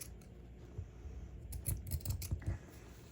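Scissors snip through felt while making felt Valentine envelopes, a series of close, crisp cuts clustered in the second half, quiet and with no talk.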